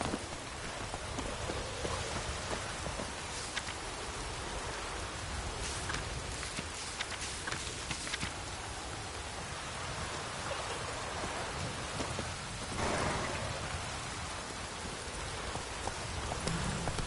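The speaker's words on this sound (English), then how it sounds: "Let it rain." Steady rain pours in a Witcher 3 video game scene, a dense constant hiss filling the soundscape, with faint rumbles and patters underneath and no voices.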